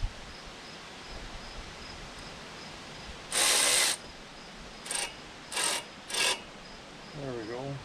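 A ratchet wrench working bolts during teardown of a Detroit Diesel 8V71T engine for an International 4200 repower, with one longer burst of ratcheting clicks followed by three short bursts, close and moderately loud over a quiet shop hum.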